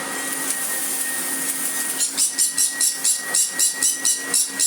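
A vacuum cleaner, one of a series of household vacuums under test, runs with a steady high whine, then pulses in rapid regular surges as it is pushed back and forth, close and loud.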